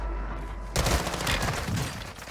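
A BAS-P gun fires in a video game: after a low rumbling lead-in, a sudden loud burst of rapid shots breaks out, followed by a ragged run of further cracks and impacts close up.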